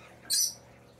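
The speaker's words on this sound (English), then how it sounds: "your lorikeets are hungry this morning. They're making all kinds of noise." A single short, bright chirp from a lorikeet, close and fairly loud against a quiet background, from hungry birds calling noisily in the morning.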